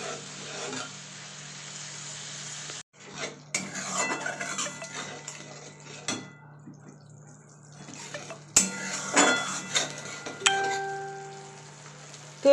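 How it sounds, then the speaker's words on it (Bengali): Spices mixed with a little sugar and sautéed in a pan for a sweet vegetable dish, giving intermittent metallic scraping and clinking of a spoon against the pan, with short pauses and a low steady hum underneath. "এবার এটাকে ভালো করে মিশিয়ে কষিয়ে নেব মশলাটাকে"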